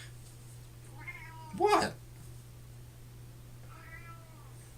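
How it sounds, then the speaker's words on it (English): A cat meows twice, with a loud rising cry in the middle and a softer call near the end, over a steady low hum; a voice briefly speaks. "My cat is cussing me out right now, so that's what the sound is."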